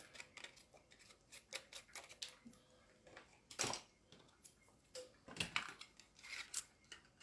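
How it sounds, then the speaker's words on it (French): Scissors cutting off a piece of scrapbook paper, a quiet close series of crisp snips and rustles at an uneven rhythm, with soft handling sounds between cuts. "Je vais venir couper ce bout-là."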